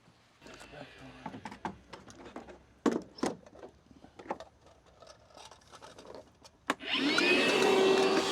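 A vacuum cleaner sucking up leftover aluminum pieces after installing a Freedom Launcher on an OT 120 PDL Pro, switching on loud near the end after people talk over scattered clatter and handling noises.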